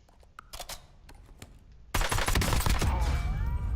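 A gun being test-fired in the video game Warzone: a few sharp, separate shots are followed by a sustained loud burst of rapid automatic fire with ringing tails.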